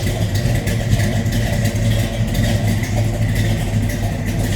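A 1966 Chevrolet Chevelle SS 396 V8 engine rumbles steadily at idle, deep and continuous, close by with no one talking.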